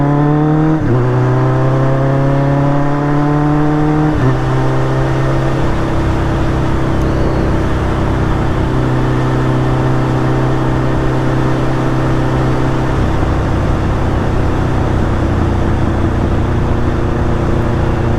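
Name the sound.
motorcycle engine while riding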